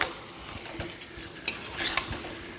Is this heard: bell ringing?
no